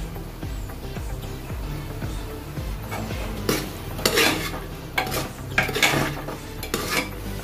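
Vegetable biryani mixture is stirred in a pot with a spoon, giving repeated scraping and metallic clinks that grow busier and louder toward the end, with no talking.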